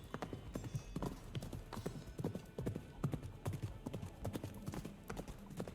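Video game horse hooves clip-clopping in a steady trotting rhythm, close and distinct, with a voice talking faintly underneath.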